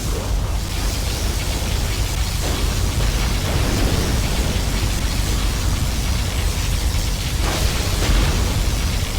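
A sustained, roaring particle cannon blast from the strategy game Command & Conquer Generals Zero Hour, a dense, continuous rumbling wash of noise lasting several seconds with a few swells.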